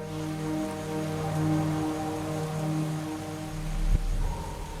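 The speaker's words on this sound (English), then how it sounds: "It was just torrential downpour." A heavy downpour roars steadily and evenly, a dense wash of rain noise that swells slightly near the end with a dull low rumble.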